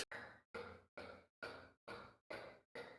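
A person repeatedly makes an inhaled K sound as a vocal exercise, eight even, breathy gasps in a steady rhythm separated by brief silences, close and alone.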